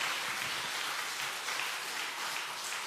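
Soft applause for a church deaconess during a Sunday afternoon service, a steady, faint wash of clapping from a congregation with no voices over it.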